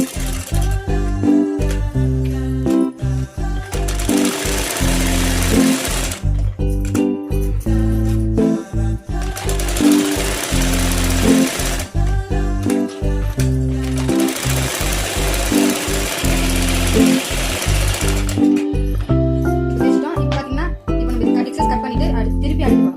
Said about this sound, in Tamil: இதை வச்சு இப்படி நம்ம நெக் ஷேப்க்கு ஒரு ஸ்டிச் போட்டு அடிச்சு டர்ன் பண்ணிக்கலாம் வாங்க